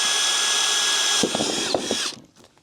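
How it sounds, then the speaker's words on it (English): A power drill whines steadily, drilling holes while fitting a carbon bonnet and intake to a Golf R, then stutters through a few short bursts before winding down and stopping. "we're going to drill some holes"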